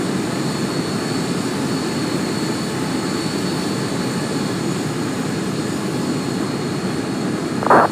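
A jet airliner's engines drone steadily while taxiing at Dubai International Airport in a flight simulator game, a loud, constant whine and rumble with no talk and a brief bump near the end.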